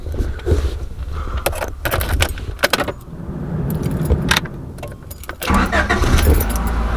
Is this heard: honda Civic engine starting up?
yes